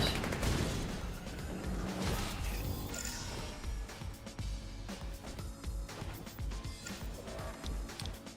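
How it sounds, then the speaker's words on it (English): Pistols firing in the video game Seraph, a dense run of sharp cracks and impacts, loud at first then sparser irregular shots and crashes over a steady game background. "Those all pistols, man. They tear things up pretty good."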